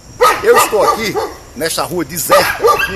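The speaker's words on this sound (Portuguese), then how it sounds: "Aqui só tem os cachorros latindo." Dogs bark repeatedly on a deserted street at night in Fortaleza, beside Cocó park, in several clustered volleys of loud, fairly close barks. Someone talks over them.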